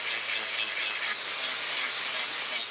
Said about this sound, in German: So, einmal die Flex bitte.